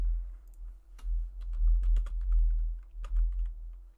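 Computer keyboard typing with irregular, close clicks and short bursts of keystrokes over a steady low hum, with no speech.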